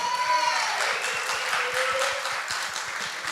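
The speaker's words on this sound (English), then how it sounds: "Give them a nice round of applause." Audience at a CD release party for a recovery event gives a round of applause, a dense, steady wash of clapping with no clear individual beats, fairly loud and close, with a faint tone underneath.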